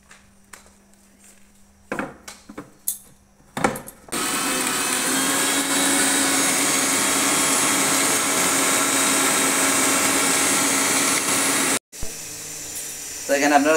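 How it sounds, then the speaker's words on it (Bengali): Dried chillies whirl in a blender for Korean noodles: a few handling clicks and knocks first, then a loud, continuous motor whine for about eight seconds that cuts off abruptly, with speech nearby. "এগুলো এখন ব্লেন্ড করা হবে।"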